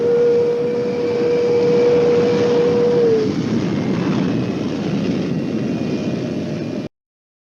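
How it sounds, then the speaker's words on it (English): Jet engine of an F-104 Starfighter roaring as a loud, steady broadband rush with a high whine, holding constant for about seven seconds before cutting off abruptly, with no voices. "have some more jet noise."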